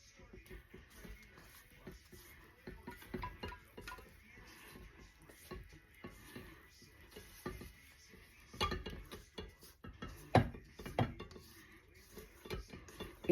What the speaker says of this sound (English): just gonna take my spatula and finish mixing